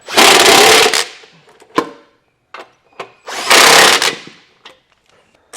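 A power tool tightens trailer hitch bolts on a Jeep Grand Cherokee in two loud, close bursts of about a second each, with scattered clanks and taps of metal in between.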